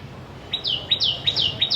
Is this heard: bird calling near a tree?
yes